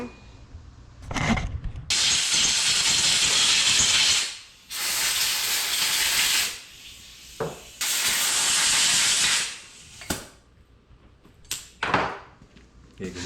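Compressed air blasting dust out of a disassembled snowmobile clutch, several loud hissing bursts lasting one to three seconds each, separated by short pauses and clunks.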